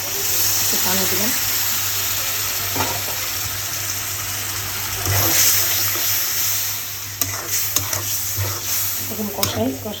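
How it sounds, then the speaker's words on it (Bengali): Water poured into a cooking pot of spiced masala, giving a rushing hiss and bubbling sizzle that runs steadily under faint background talk, with a few clinks of a spoon near the end. "পানি দিলাম।"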